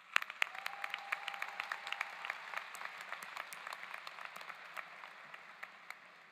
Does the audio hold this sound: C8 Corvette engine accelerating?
no